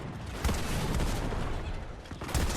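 Shotgun fire in the video game Fortnite: a couple of heavy blasts rise out of a dense, noisy game mix of rumbling effects.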